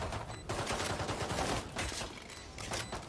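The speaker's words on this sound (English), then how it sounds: "Shots flying through." Gunfire crackles in the tactical shooter Valorant during a pro tournament match, with quick fusillades of shots in bursts separated by short gaps, fairly faint and distant.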